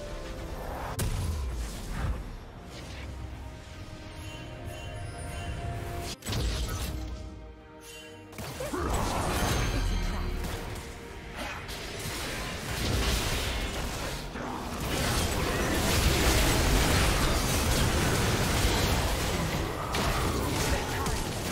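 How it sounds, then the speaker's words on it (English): A turret is destroyed in League of Legends, producing a loud crashing, shattering collapse layered with booming impacts and whooshes amid ongoing game effects; an announcer's voice is heard at one point. "Blue team's turret has been destroyed."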